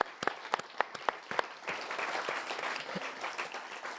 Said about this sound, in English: Maybe give them another round of applause for them.